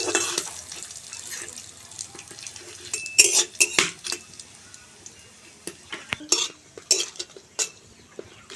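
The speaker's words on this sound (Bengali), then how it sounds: "ফোড়নটাকে ভালো করে ভেজে নেব যতক্ষণ না খুব সুন্দর একটা সেন্ট বেরোচ্ছে" Whole cumin and bay leaf tempering frying in a pan for dal, with clattering utensil and pan knocks and scraping stirs over a faint background sizzle, close and irregular.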